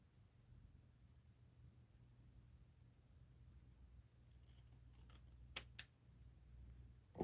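Scissors cut a photo print with a few faint, close snips in the latter half, including two sharp clicks, against a low quiet hum.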